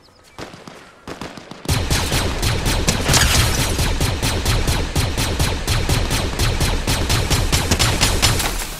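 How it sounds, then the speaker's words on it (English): Rapid continuous gunfire in Fortnite, loud dense bursts of shots rattling steadily for several seconds after a few scattered opening shots. "I hear weapons fire"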